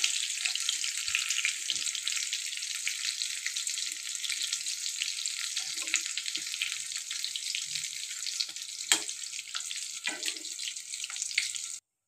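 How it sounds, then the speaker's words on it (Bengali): Bok flowers (vakphul) coated in gram-flour batter fry in hot oil, giving a dense, continuous crackling sizzle that stays close and steady with no voices. "এদিকে বকফুলগুলো ছেড়ে দিয়েছি তেলে"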